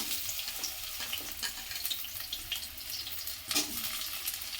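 Onions fry in oil with a soft, continuous sizzle and crackle up close, fairly quiet and even throughout.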